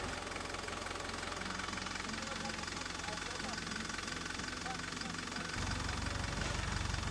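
A tractor engine idles with a steady knocking rumble throughout while nets are fed through a spreader, the engine note deepening and growing slightly louder near the end.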